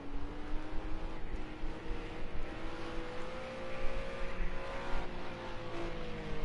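An LMP3 race car at Dubai Autodrome, its engine holding a steady drone that slowly rises in pitch as it accelerates, heard at a distance under continuous track noise.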